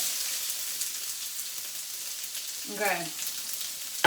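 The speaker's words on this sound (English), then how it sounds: "better whack in the onion before that burns" Onion sizzles in hot oil with mustard seeds in a steady, moderate frying hiss. A short spoken word cuts in near the end.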